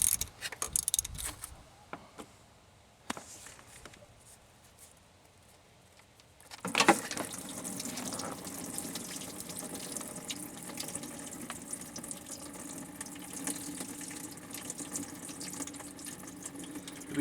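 Water draining from the engine block of a Pontiac Grand Am outdoors, with a few faint knocks before a sudden steady trickling gush sets in about halfway and runs on continuously.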